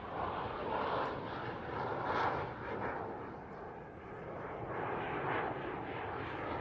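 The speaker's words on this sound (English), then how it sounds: "Teddy will be pulling the aircraft into a 270-degree turn into another half square loop" An aerobatic display plane performs at an RAF Waddington airshow, its engine droning in a steady, distant roar that swells and fades slightly as it turns and loops, with no talking heard.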